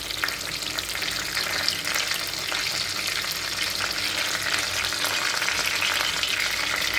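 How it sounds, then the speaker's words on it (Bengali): Stuffed pointed gourd fritters frying in hot oil, an unbroken close sizzle with dense crackling and spatter, steady and fairly loud with no voices. "এখন আরও লাল করে ভালো করে ভাজা হবে।"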